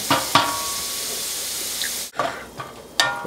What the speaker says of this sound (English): I'm going to saute these up.